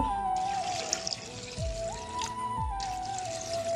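Water pours into a cooking pot of dried fish, a steady close trickle and gurgle whose pitch shifts as it fills, running on its own without talk.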